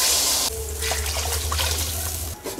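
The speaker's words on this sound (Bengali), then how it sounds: "জল দিয়ে দিচ্ছি।" Water poured into a pot of Bengali fish curry with katla fish and papaya, a loud steady gush and splash that cuts off near the end, without speech.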